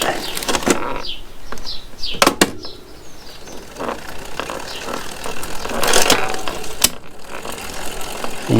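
Gears shifting up a couple of cogs on a Trek Emonda ALR5 road bike with a Shimano 50/34 drivetrain: repeated sharp clicks and ratcheting chain clatter up close, with freewheel ticking between shifts and no talk.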